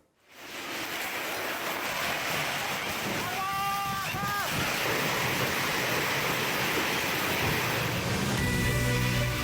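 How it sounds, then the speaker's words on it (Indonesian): Tornado-force wind tears through villages in Leces, Probolinggo, East Java, a constant loud roaring rush with no break, with a brief tonal whine partway through and a faint voice under the din. "Rekaman video amatir ini merekam saat angin puting beliung menerjang sejumlah desa di Kecamatan Leces"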